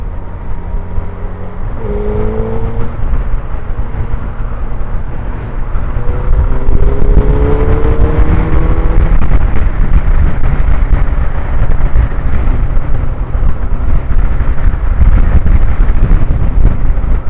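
Suzuki GSX-R Hayabusa Gen2 motorcycle accelerating onto a motorway with its A mode selected, a loud steady engine roar under heavy wind buffeting, with rising engine tones heard early on and a continuous rush of wind throughout.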